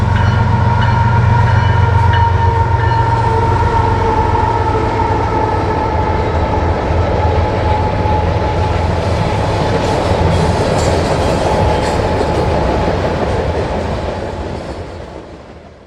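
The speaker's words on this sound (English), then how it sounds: "We also followed a train down the Canadian Main on our way home through New York" A train rolls by on the Canadian Main line in New York, a loud, steady rumble of rail cars with rhythmic wheel clatter that holds for most of the pass and then fades toward the end.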